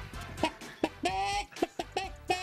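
A person's voice mimics a hen, giving a run of short, clipped clucks in an uneven rhythm, with no other talk, in French reality-TV footage.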